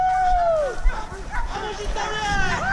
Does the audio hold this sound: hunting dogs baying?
yes